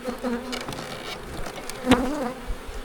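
Honey bees buzz steadily around an opened beehive, a close, dense drone with individual bees passing near and one loud fly-by.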